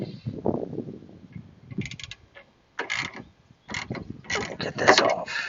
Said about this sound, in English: Go ahead and put the 10 millimeter socket wrench on the other side like we did before.